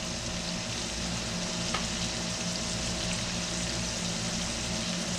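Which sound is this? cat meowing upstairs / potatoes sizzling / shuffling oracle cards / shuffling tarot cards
potatoes sizzling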